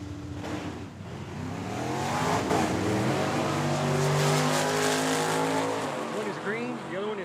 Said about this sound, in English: Cody Robinson, left-hand side for Team Joe Kidd in the 70 Camaro. And the wagon on the right-hand side